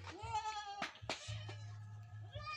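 Several goats bleat at a farm, with wavering calls following one another, some overlapping, under sharp knocks and short noises.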